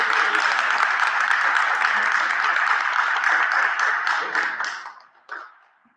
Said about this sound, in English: big round of applause for our candidates here